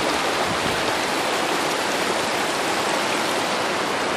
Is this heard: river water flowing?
yes